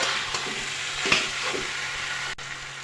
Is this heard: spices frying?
yes